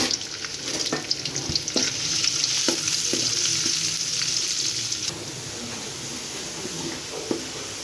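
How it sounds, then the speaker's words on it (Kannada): Finely chopped garlic roasting in oil for white sauce pasta, a close, bright continuous sizzle with scattered spatters and utensil taps, easing to a calmer hiss in the last few seconds. "ಇದಕ್ಕೆ ಫೈನ್ಲಿ ಚಾಪ್ ಆಗಿರೋ ಗಾರ್ಲಿಕ್ ಹಾಕೋಣ. ಇದು ಚೆನ್ನಾಗಿ ರೋಸ್ಟ್ ಆಗಬೇಕು."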